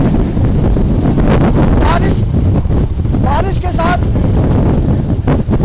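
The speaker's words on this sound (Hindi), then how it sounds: "बहुत तेज हवा इस परिसर में चल रही है," Strong Cyclone Biparjoy wind roars steadily and loudly at a microphone in Gujarat during rain, with gusty buffeting throughout and a voice faintly audible beneath it.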